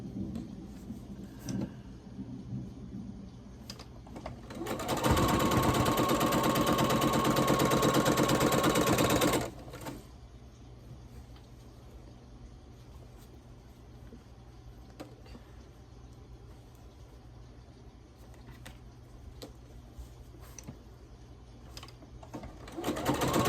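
A sewing machine stitching quilt pieces runs in one loud, steady burst of about four seconds, then stops, leaving quiet room tone with faint handling clicks before it starts up again briefly at the end.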